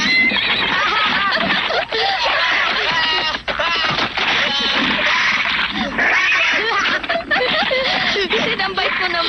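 A cartoon horse whinnies and snickers loudly over a busy mix of lively voices and background sound, with several neighs running through.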